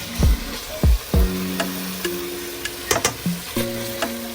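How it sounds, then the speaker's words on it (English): Curry-seasoned chicken browning in a pan with oil, onions and garlic, giving a steady sizzle broken by a few loud thuds and scrapes early on, then a run of sharp metallic clinks and tones near the end. "Just browning the meat. This is what you call browning."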